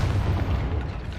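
Confringo blast spell in Hogwarts Legacy, a single deep booming explosion with heavy low rumble, loud and close, filling the brief moment without any voices.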